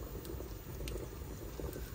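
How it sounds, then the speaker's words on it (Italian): A pot of water boils steadily on a home stove before pasta goes in, a soft continuous bubbling hiss heard up close with no talking. "qua vedo che sta bollendo, quindi vado a mettere anche la pasta"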